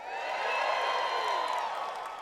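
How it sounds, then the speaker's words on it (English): An audience at a talk applauding and cheering: a short, steady wash of clapping and whooping voices that holds at an even, fairly loud level for about two seconds with no lull. "I want to hear like the applause"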